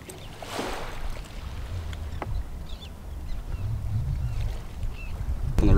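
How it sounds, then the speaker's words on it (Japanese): Waves wash and rumble steadily near the shore in Okinawa, with a soft swell of surf and faint breezy noise, no voices. "この波の音と鳥の鳴き声"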